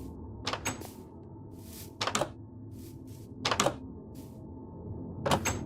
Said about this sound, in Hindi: जैसे कि कोई दरवाजे खोलकर साइमन की तरफ आ रहा हो